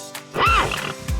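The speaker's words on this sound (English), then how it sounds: "H, horse." A horse gives a single short neigh with a rising and falling whinny, clear and close, lasting under a second, used as an example animal sound for toddlers.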